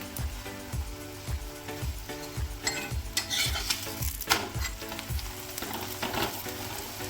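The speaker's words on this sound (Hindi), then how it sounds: "ऊपर से लगा देते हैं घी और स्लो फ्लेम पर धीरे धीरे पकने देते हैं।" A bajra paratha cooks in ghee on a griddle over a slow flame, giving a steady close sizzle with regular soft pressing and scraping strokes roughly twice a second, and brief louder scrapes in the middle.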